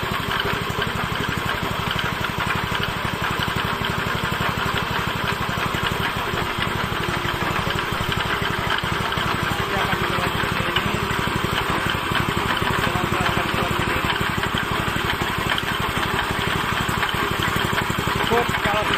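A floating fish pellet machine's engine runs loud and close for the whole stretch, a dense continuous rumble with a rough knocking vibration and no pauses.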